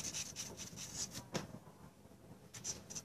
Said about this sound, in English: I sanded the fiberglass